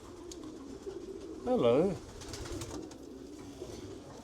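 Pigeons coo in a breeding loft, with one strong, warbling coo rising and falling over roughly half a second amid quieter background cooing. Someone says a brief word nearby.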